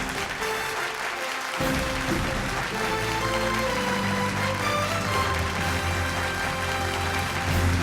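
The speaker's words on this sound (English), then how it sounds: "Everyone, round of applause for ma'am." An audience at an award ceremony applauds, a continuous loud spread of clapping under stage music that runs the whole time.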